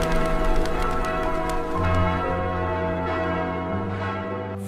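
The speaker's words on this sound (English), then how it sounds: "The bells ring across the rooftops." Church bells ring out over the old rooftops of early 1800s Vienna, a full, sustained peal of overlapping tones rolling continuously and resonantly.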